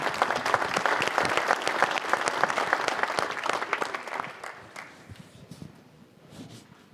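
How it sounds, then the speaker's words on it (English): Audience at a lumber industry regional meeting giving a quick round of applause, brisk crowd clapping that fades away after about four seconds, leaving a quieter room. "Quick round of applause."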